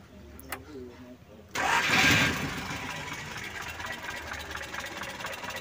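A Colt T120 engine is cranked by its starter motor, a short quiet whir, then fires abruptly and catches into a loud roar that eases to a steady, fairly close idle.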